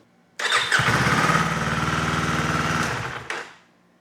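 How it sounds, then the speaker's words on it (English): Kawasaki Ninja 500 motorcycle engine starts with a quick crank, catches and runs loudly at a rough idle for about two and a half seconds, then shuts off, close up and alone. "burp the system by just starting the bike briefly, letting the oil cycle through, shutting it off"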